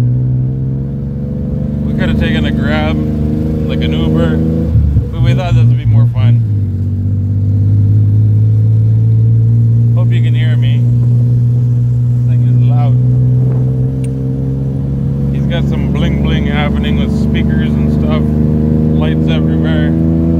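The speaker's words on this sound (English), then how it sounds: "We're on a tuk-tuk going home." A tuk-tuk engine in Thailand drones loudly and steadily, with a harmonic hum that shifts pitch as it changes speed, while people talk over the ride.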